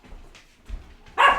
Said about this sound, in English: The dogs are in the house.